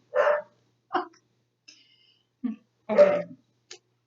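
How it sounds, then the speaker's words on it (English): Dogs barking downstairs, heard as a few short, muffled barks spaced apart in a quiet room, with one louder, fuller bark near the end. "The dogs are barking downstairs."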